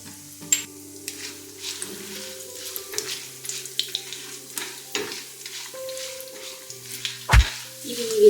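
Peanuts and cashews with broken dried red chillies fry in hot oil for upma, a steady close sizzle with scattered crackles and spoon clinks, a louder knock near the end and a faint tonal hum underneath.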